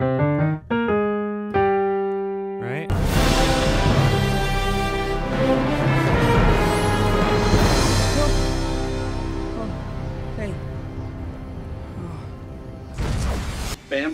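Orchestral film score from Spider-Man: Homecoming playing Stark's theme: a sparse, rhythmic sustained opening gives way to a loud, full orchestral swell that stays dense and steady, then briefly thins before a final burst.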